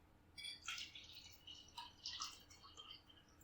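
Tea pouring in a quiet setting during a tea ceremony, giving a soft trickling, splashing liquid sound in several short bursts with faint dripping between them, heard alone at low volume.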